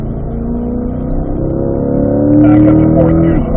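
A C8 Corvette engine drones loud and close on a race track, its steady harmonic tone shifting in pitch as it drops into third gear, with a louder surge near the end.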